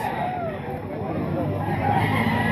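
Roosters and chickens at a poultry market crow and cluck amid a dense, constant din of crowd noise, with no pause in the steady background.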